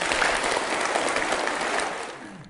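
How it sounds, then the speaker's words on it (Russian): Seminar audience in Moscow applauding themselves, a dense, steady wash of many hands clapping at close range that thins out toward the end. "Дайте себе аплодисменты."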